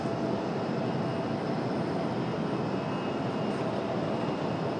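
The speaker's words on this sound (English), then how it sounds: "Now we've got Southwest getting ready for their departure." Southwest Airlines airliner readying for departure at Raleigh-Durham airport, a steady, continuous broadband engine roar with a faint high whine, fairly loud and unbroken, no voices.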